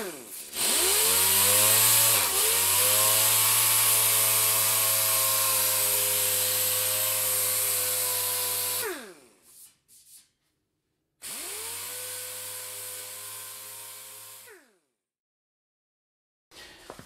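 A dual-action sander with 220-grit paper works epoxy primer on a 1966 Mustang, running in a loud whirring burst of about nine seconds, then a shorter second burst after a pause, with no talk.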